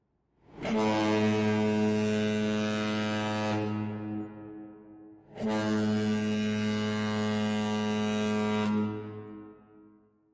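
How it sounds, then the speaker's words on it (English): Two long, deep ship foghorn blasts, each lasting about three seconds with a brief pause between, resonant and droning with no other sounds. "Because those are, of course, ship horns."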